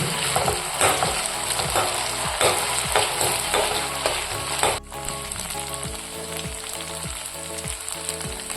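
Ginger garlic paste sizzles and fries steadily in a pan for chicken curry, with a dense continuous crackle, occasional stirring scrapes, and a brief dip near the middle before the sizzle resumes, no talking.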